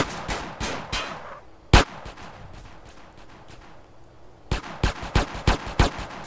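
Gunfire in the video game GTA San Andreas: sharp, punchy shots in quick bursts, a few early, one loud single crack, then a rapid volley of evenly spaced shots near the end.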